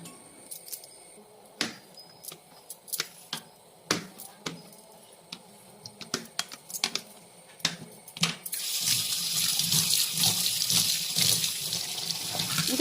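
A small lemon is handled and washed at a kitchen tap: scattered sharp clicks and knocks come first, then the faucet runs in a loud, continuous gush for the last few seconds.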